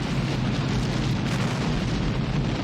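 A loud, continuous roar of movie explosions from The Running Man, with deep rumbling and dense crackling noise, sustained throughout, with no voices.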